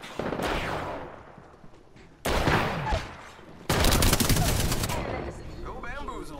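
Apex Legends gunfire rips out in loud bursts: a short volley, then two dense, rapid automatic strings a second or so apart, close and sharp against quieter game ambience.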